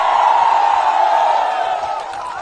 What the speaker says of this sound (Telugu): చప్పట్లు కొట్టి అభినందించండి